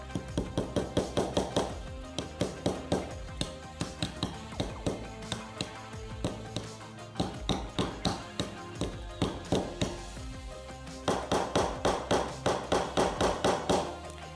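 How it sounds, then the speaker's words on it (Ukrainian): A hammer drives small nails around a cactus outline on a string-art board, sharp close taps in quick rhythmic runs of several strikes with brief pauses between groups. "забиваємо цвяхи по периметру нашого кактуса."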